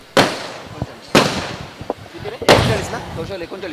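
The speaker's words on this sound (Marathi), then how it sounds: "ही फटाक्यांची आतषबाजी आहे ना 3 वाजता अगदी पहाटे" Three sharp, loud fireworks bursts at roughly one-second intervals around 3 a.m. during a local cricket tournament, each followed by crackling decay and a few smaller pops echoing in the distance.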